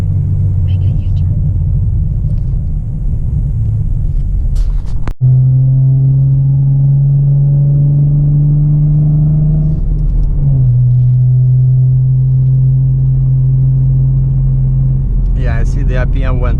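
A 2017 Ford Mustang with a changed axle ratio drones steadily while driving. A low engine tone rises and holds, shifts near the ten-second mark, and continues. A sharp click sounds early on. Talk runs over part of the engine noise.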